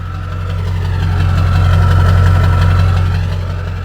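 A Ram 3500 truck fitted with a brand-new Ford engine idles close by, a steady low rumble with a knocking pulse that swells slightly in the middle and holds without any talk.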